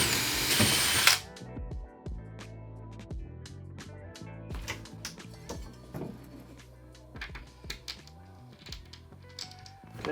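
A cordless drill bores a pilot hole and drives screws into a chipboard wall for a TV wall-mount bracket, with a loud burst at the start followed by clicking, ratcheting and brief whirring runs nearby.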